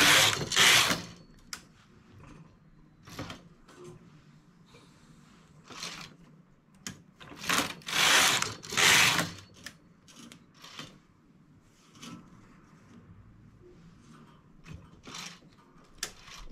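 A domestic knitting machine knits a tight, striped cuff for a poncho on tension setting 3. The carriage makes repeated clattering, whirring passes in bursts of varied length, separated by quieter pauses full of faint mechanical clicks.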